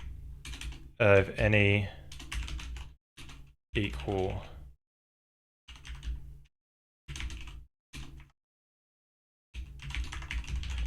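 Clacks from a computer keyboard come in short bursts while someone writes code, mixed with a man's intermittent speech and brief pauses of silence.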